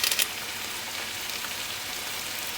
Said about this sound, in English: now that our onions are almost sauteed